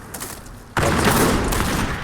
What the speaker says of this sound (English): he just has way too many foot artilleries firing at him